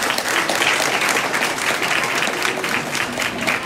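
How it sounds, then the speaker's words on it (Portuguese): Audience applause at a live music show, a dense, steady clapping that stays loud and even throughout, with no voices over it. "Então, uma salva de palmas aqui para o Maurício."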